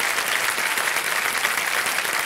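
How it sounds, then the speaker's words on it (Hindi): Studio audience on the quiz show Kaun Banega Crorepati breaks into loud, dense applause for a contestant, a steady unbroken wash of many hands clapping that fills the short clip without any speech. "तालियां बज जाए एक बार जोरदार इनके लिए।"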